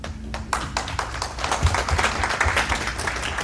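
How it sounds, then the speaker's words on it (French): A crowd at a memorial celebration of life claps steadily, a dense patter of many hands building slightly in strength, close and fairly loud, with no talking over it. "applaudissez pour vous, s'il vous plaît"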